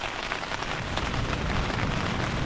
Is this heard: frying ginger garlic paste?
no